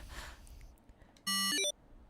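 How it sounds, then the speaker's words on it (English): A device in the Zero Escape: 999 game gives a short electronic beep, a flat tone followed by a quick rising run of notes, clear and loud against a quiet background. "A beep?"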